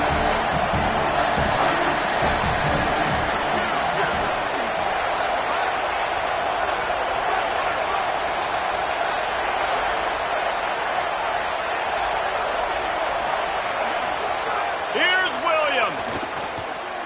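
A college football stadium crowd roars steadily on a third down, a dense, sustained wall of cheering and noise throughout, with a brief whistle-like sound near the end.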